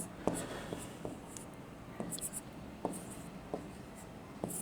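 Chalk or marker writes on a board in a quiet classroom, with a series of short, distinct strokes and taps spaced through the clip at moderate volume.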